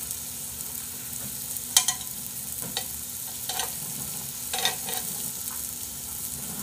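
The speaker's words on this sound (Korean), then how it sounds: "지글지글 하는 상태에서 가져왔어야 되는데" Meat grilling at home sizzles and crackles steadily close by, with scattered sharper pops and spatters over a constant frying hiss, no voices heard.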